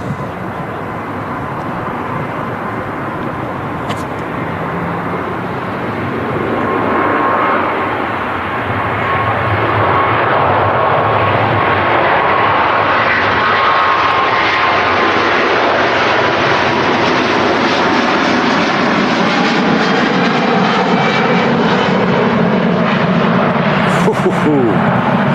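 An Airbus A350-900 jet takes off at Manchester Airport on a long-haul flight to Singapore, its engine roar building from a distant rumble to a loud, sustained, sweeping thunder.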